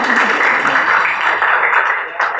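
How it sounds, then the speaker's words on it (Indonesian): A class of students clapping together in a classroom, a dense burst of hand claps lasting a couple of seconds and fading slightly at the end, with a few voices mixed in. "tepuk tangan semua"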